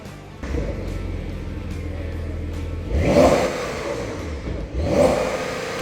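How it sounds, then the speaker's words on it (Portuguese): A 2015 Porsche turbo engine revs twice, each rise swelling loud and close above a steady mid-pitched running drone, with no voices. "O motor turbo adotado pela Porsche em 2015 tem marca sonora própria."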